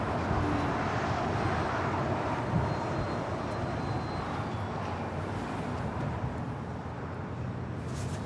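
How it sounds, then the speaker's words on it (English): Japan Airlines Boeing 787-9 Dreamliner taking off from Los Angeles International Airport, a steady, moderately distant jet engine rumble that holds evenly throughout and fades slightly toward the end, with no talking. "That is Japan Airlines Flight 61 departing to Tokyo Narita on a 787-9 Dreamliner."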